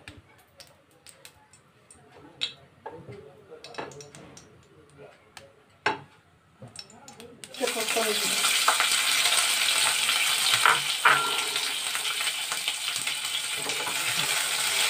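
Paneer pieces hit hot oil in a kadhai and break into a loud, steady sizzle that runs continuously after a stretch of quiet ticks and clinks of utensils, with a voice speaking briefly early on.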